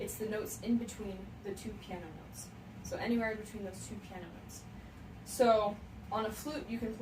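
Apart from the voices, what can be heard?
No distinct noise like a dog, phone or traffic.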